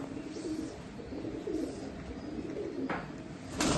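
An Arab male pigeon coos softly, low rolling calls repeating under a faint background hiss, fairly quiet and close.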